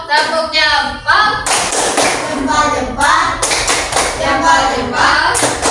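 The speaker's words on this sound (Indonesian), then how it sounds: "Kasih tepuk jempolnya buat kelompok 1" A class of students does a rhythmic thumb-clap chant for a presenting group, with sharp patterned claps and taps between loud voices chanting along, repeated in bursts.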